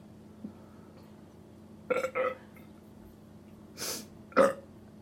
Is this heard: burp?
yes